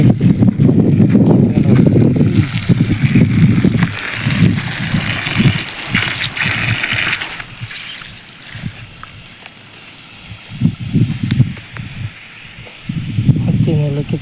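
Water rushes steadily into a field channel, a close, continuous broadband flow with some rustling, swelling and easing slightly over the span.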